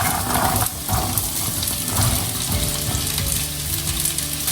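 Green beans with garlic and shallots sizzle and crackle in a hot pan, a loud continuous frying hiss close by, broken by scraping stirring strokes.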